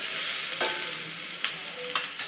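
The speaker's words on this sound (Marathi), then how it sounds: "कांदा छान परतून झाला की यामध्ये चार ते पाच कडीपत्त्याची पाने घालायची आहेत मिक्स करून घ्यायचे" Onions and curry leaves fry in a pan with a steady sizzle, broken by a few sharp scrapes of a spoon stirring, close and clear with no voices.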